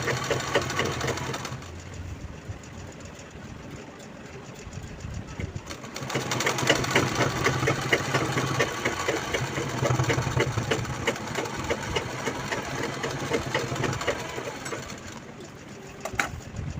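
A sewing machine stitches a piping strip onto a shopping bag made from a reused blouse piece, running in steady rapid bursts with a short pause, close and fairly loud, with faint background voices.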